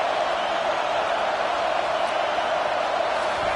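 A college football stadium crowd cheering on the Alabama defense near the goal line, a dense, sustained roar of many voices filling the space evenly without pause.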